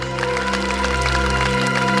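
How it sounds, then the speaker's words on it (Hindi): A studio audience bursts into brief, lively applause over a musical sting, the clapping dense and close for a couple of seconds. "तालियां!"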